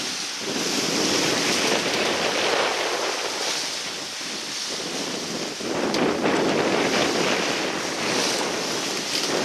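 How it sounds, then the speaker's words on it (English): Steady wind roars across the microphone over the rush and wash of waves at sea aboard the sailboat Prince Diamond bound for Turks and Caicos, loud and continuous with surging swells in easing weather, no voices. "the weather has moderated somewhat and these waves aren't quite as bad."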